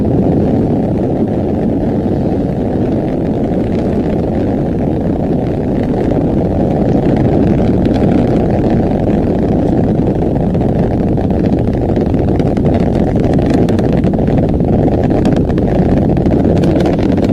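Rocket launch carrying the ocean-observing Sentinel 6 Michael Freilich satellite: a loud, continuous roaring rumble with steady, wind-like noise that holds throughout without a break.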